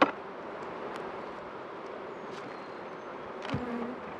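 Honeybees drone in a steady, soft hum at an open hive during a split, with a few faint clicks and knocks over the buzzing.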